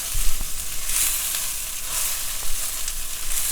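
Cooked rice with spinach and eggs sizzles loudly and continuously in a hot pan, with a few scraping stirs and no voices.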